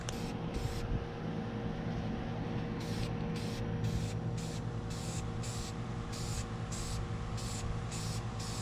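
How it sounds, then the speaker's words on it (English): An aerosol spray can, a Barbasol can, hisses continuously at close range, with short rhythmic pulses of spraying over a steady background rumble. "I'm wearing gloves because I'm gonna hold it while I spray it."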